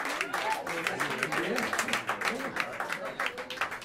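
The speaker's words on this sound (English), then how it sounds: "let's give these cats a hand. A round of applause, please." Jazz club audience applauding a live quintet, steady clapping with cheers and voices mixed in, fairly close and continuous throughout.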